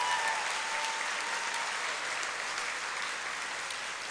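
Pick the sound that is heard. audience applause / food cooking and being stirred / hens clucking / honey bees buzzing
audience applause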